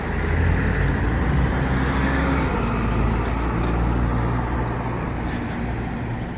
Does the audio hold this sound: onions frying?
no